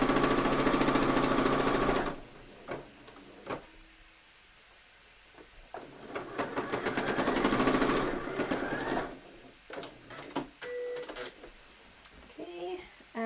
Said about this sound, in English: I know that it seems like I'm just sewing here